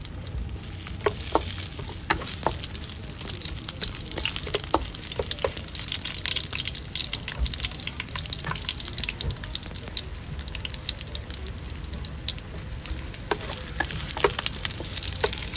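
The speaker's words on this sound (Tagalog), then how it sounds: "Una nating gagawin ay maggigisa tayo ng ating luya." Ginger sautéing in hot oil for beef pares, giving a steady, close crackling sizzle with scattered sharp pops and light stirring throughout, with no voices.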